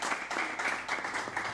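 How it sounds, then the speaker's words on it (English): An audience at a coding bootcamp demo day panel claps, a soft, steady patter of applause from a modest crowd with no voices over it. "Let's give a round of applause for her."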